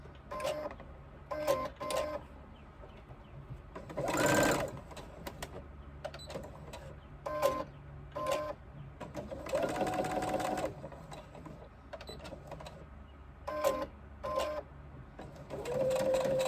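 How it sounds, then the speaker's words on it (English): A sewing machine top stitches a crossbody bag in repeated short bursts of rapid mechanical whirring, with pauses and clicks between runs and a longer stitching stretch in the middle. "Press it flat and top stitch."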